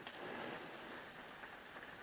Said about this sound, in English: I can hear a little bit of rain on the top of the roof off and on.